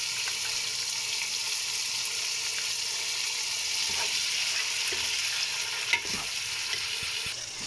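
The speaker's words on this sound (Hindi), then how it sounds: "तकरीबन मैंने 3 या 4 मिनट इसको योगर्ट के साथ फ्राई किया।" Fish pieces fry in a hot pan with yogurt masala over high heat, giving a steady, close sizzle with light stirring scrapes and a brief clatter near the end.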